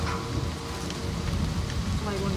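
Steady rain hisses from the video game Season: A Letter To The Future while riding, a dense even wash of drops with no break across the moment.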